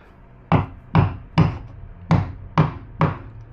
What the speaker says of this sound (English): Probably have to hammer those home a little bit.